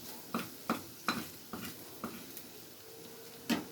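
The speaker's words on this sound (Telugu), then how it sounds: "కలుపుకొని ఇప్పుడు టమాటా ముక్కలు వేసేద్దాం ఫ్రెండ్స్" A spoon stirs tomato pieces into broad beans in a pan, faint rhythmic taps and scrapes about every half second over a quiet low sizzle.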